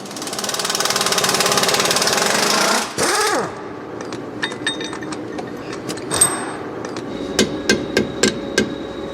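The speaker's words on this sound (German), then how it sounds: "Jetzt muss er den großen Hammer nehmen." Loud, sustained machine-like hammering gives way to a clatter, then a series of sharp, separate hammer blows ringing out at irregular intervals.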